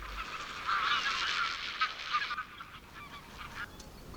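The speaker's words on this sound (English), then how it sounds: "There are two species of flamingo here, the greater flamingo and the lesser flamingo." A large flock of greater and lesser flamingos gathers in the Rann desert wetland, giving a dense, continuous chorus of goose-like honking calls that is loudest early and then thins out.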